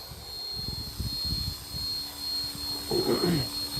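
A small OMPHobby M2 EVO radio-controlled helicopter flies outdoors with a steady high-pitched whine and rotor buzz, joined by low rumbling wind gusts and a brief rising tonal swell near the end.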